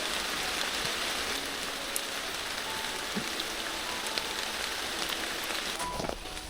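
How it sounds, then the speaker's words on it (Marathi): Heavy monsoon rain falls in a forest, a dense, steady patter of drops on leaves and ground with occasional nearer drips, continuous and enveloping with no voices. "चला पाऊस आता कमी आलाय थोडा."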